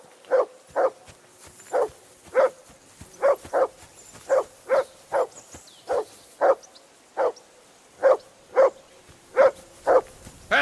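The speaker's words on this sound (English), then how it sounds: "Call that dog to heel!" A dog barking in the medieval video game Kingdom Come Deliverance II, a long series of evenly spaced, moderately loud single barks against a quiet background.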